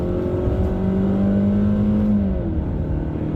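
A Jeep Cherokee in sport mode accelerating loudly, a steady, close engine drone that rises in pitch, heard from inside the car with no talking.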